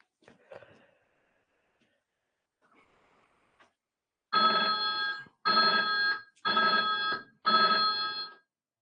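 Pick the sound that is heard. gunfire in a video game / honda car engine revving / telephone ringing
telephone ringing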